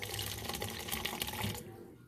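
Liquid poured steadily into keto birthday cake batter, a close, gurgling stream lasting about a second and a half before stopping abruptly into quiet.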